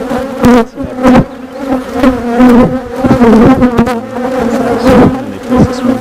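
Dense, loud honeybee buzzing around an open hive during an inspection, a close swarm of overlapping wingbeat drones that rise and fall as bees pass near, with no talking.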